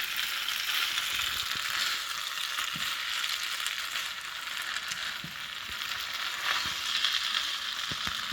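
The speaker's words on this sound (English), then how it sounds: "the noodles are getting nice and fried, definitely darkening a bit" Yakisoba noodles fry in a hot pan with a steady, close sizzle and scattered stirring clicks running throughout, with no voices.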